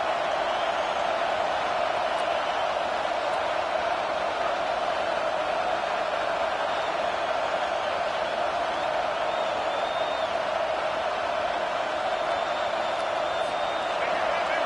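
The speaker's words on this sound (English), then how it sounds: "Decibels rising as the crowd gets behind this defense on third down." Stadium crowd roaring for the home defense on third down at a football game, a dense, steady wall of cheering and noise that holds loud and unbroken throughout.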